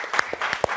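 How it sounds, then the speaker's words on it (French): Studio audience on a French TV show applauding two comedians, a short burst of close, scattered claps. "Vous pouvez les applaudir, Oda et Dako."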